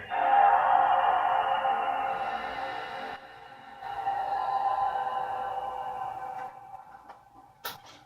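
A faulty PlayStation 2 gives off a steady droning whir while it struggles to load a game, with a dip and a second surge of the same tone, then a brief sharp click near the end, no talking.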